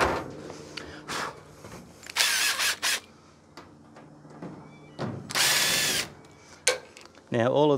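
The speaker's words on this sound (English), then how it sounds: "So I just use a 1/4 inch hex bit." A power drill fitted with a 1/4 inch hex bit removes the hex screws from an Electrolux clothes dryer cover, whirring loudly in several short bursts close by between quieter clicks and handling noise.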